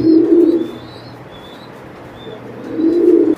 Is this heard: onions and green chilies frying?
no